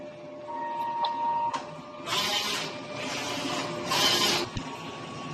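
A DTF printer runs a nozzle test during maintenance, its printhead carriage whirring in several bursts of mechanical motor noise with short pauses and clicks, close and steady, no voices.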